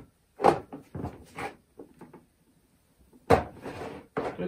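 Drawers of a Workpro hand-tool chest sliding on their runners, two separate bursts of rattling, scraping movement with short knocks, close and fairly loud, with quiet gaps between and no talk.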